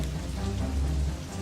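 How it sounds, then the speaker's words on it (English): Toxic rain on another planet pours down as a steady, dense hiss with a low rumbling undertone, constant and close throughout. "these toxic rains are some of the worst you'll find anywhere in space"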